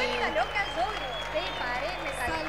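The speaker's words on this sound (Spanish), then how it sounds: "Mira cómo la gente, cómo la gente está ovacionando, cómo la gente está aplaudiendo." A large concert crowd at the Vendimia 2024 festival applauds and cheers continuously, a dense wash of clapping and voices with whistles and shouts rising through it.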